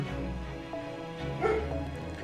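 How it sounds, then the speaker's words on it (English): A dog barks and whimpers at night, a few short muffled yips and bow-wows sounding distant and faint over a low background hum. "My dog is barking because there's some weird drug deal going on"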